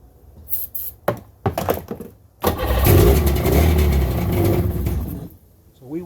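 A 1996 Sea-Doo GTI two-stroke personal watercraft engine cranks in a few short bursts, then catches and runs roughly at idle, loud and close, with its rumble fluctuating before dying down.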